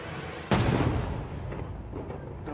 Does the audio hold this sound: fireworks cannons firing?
yes